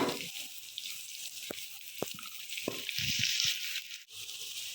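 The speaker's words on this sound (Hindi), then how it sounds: "लहसुन अदरक के पेस्ट का कच्चापन ख़त्म करना, उसे अच्छी तरह से भूनना है" Steady sizzling of garlic ginger paste frying in a hot pan, with occasional scrapes and taps of a spoon stirring against the metal.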